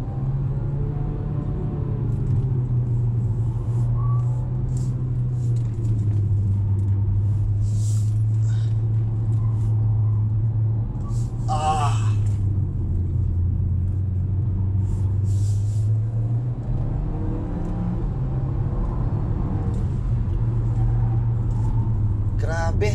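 A 2024 GAC Empow (GB) car cruises on the road with a steady low engine and road rumble throughout, brief faint clicks and rustles on top, and no talk heard.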